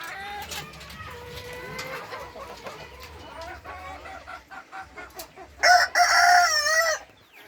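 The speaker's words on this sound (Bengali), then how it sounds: "এই মুরগি দুটো একটু আনলাম" Caged chickens cluck and chatter close by, and a rooster lets out a loud, clear crow near the end.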